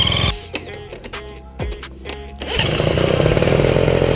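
A Peugeot Trekker scooter with a newly replaced piston and cylinder head: a few clicks and knocks, then the small engine fires and runs, loud and close, revving high and racing.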